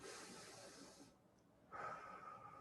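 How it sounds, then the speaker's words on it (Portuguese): One slow, deep breath during a guided relaxation session, very soft and close: a long airy inhale, a short pause, then a breathy exhale. "Faz uma respiração profunda."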